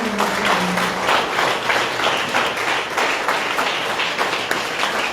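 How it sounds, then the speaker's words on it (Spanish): A church congregation applauds steadily after a closing prayer, many hands clapping in a dense, even wash that holds at full strength for the whole stretch with no voices standing out. "Vamos a brindarle un fuerte aplauso a nuestro Señor."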